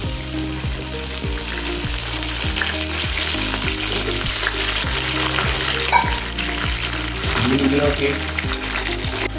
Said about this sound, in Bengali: এই তেলের মধ্যে আবার আমি বিমসটাকে দিয়ে দেবো বন্ধুরা এখন দিয়ে দেবো বিমসগুলো ভেজে নেব